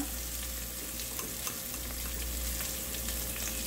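Onion paste and garlic paste frying in a pan for dhata saag with rohu fish, a continuous soft sizzle and hiss, steady and fairly quiet, with no voices.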